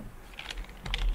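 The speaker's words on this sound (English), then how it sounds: "I'll just type that in." A few quick, close keystrokes tap on a computer keyboard in a short burst, light and crisp.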